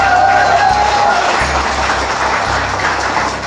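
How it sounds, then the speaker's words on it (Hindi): A class of students claps together at the close of a lesson, a dense, steady wash of applause that stays loud and even throughout, with no speech. "चलिए कल हमने ताली से शुरुआत की थी और ये क्लास भी ताली से खत्म करेंगे।"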